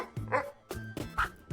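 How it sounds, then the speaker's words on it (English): Pet dog barking several times in short yips and bow-wows, quiet and a little distant, with gaps between the barks. "a dog."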